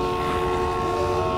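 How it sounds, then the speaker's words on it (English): A long, steady car horn blares continuously in The Walking Dead video game, loud and unbroken, holding one sustained tone throughout with no voices over it. "I hate hearing extremely long horn honks."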